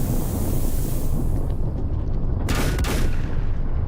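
Gunfire in the video game Volcanoids, a loud blast around the middle of the clip over a steady windy rumble, with no talk.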